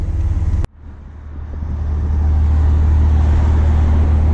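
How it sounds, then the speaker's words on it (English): Pushrod engine of a 1996 Ford Ranger XLT heard from inside the cab while driving, a steady low drone and road roar that builds after a brief click and then holds loud and constant. "this is a push rod motor, so it doesn't rev very high, but man, when you're up there, it sounds great"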